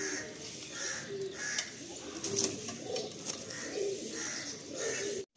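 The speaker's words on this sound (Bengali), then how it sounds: "আমরা এই এক সেট পায়রা দেখলাম" Soft, repeated cooing of pigeons close by in a loft, low throaty calls rising and falling against a faint background hum.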